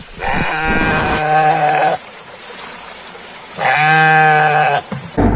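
Goats bleat in two long, loud wavering calls close by, separated by a short quiet gap, with no talking over them.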